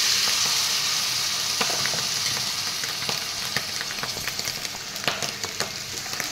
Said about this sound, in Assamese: সেইখিনিও এনেদৰে এফালৰ পৰা লৰাই দি দিছোঁ